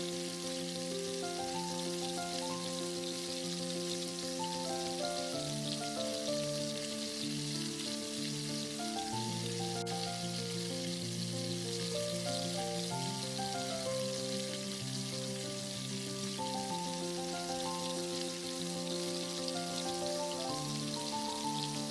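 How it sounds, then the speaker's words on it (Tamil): Chicken sizzles in hot oil with curry leaves, a steady dense crackle that holds at moderate volume throughout, with a faint tonal hum running beneath. "நான் சிக்கன் ஃப்ரை பண்ணுறப்போ கொஞ்சம் வாசனைக்காக கருவேப்பிலை சிக்கன் கூட ஃப்ரை பண்ணி எடுத்துக்கிறேன்."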